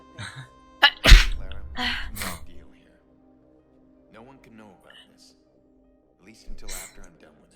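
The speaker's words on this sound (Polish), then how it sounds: "No na zdrowie, no kichnij do cholery." Person sneezing during a video game session: one sharp, loud sneeze burst near the start, with speech around it and brief talk again later.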